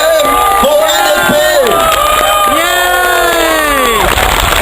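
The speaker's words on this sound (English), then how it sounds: "Can we give them a hand of applause for the Marine Parade GRC team for NSP?" A large crowd at a Singapore NSP election rally in Marine Parade cheers and whoops loudly and continuously, with shouts and yells rising over a dense, sustained roar of voices.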